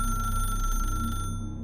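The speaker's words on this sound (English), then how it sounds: "but yet it rang like an old-fashioned bell" An old-fashioned telephone bell rings steadily at close range, a continuous loud metallic trill that cuts off abruptly near the end.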